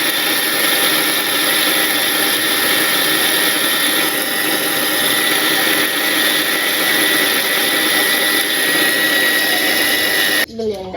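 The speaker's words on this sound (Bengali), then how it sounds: "এই পাশে আমি ব্লেন্ডারটা করে নেই।" An electric blender grinding batter for fritters in a village kitchen, a loud continuous whirring drone that runs steadily for about ten seconds before cutting off abruptly near the end.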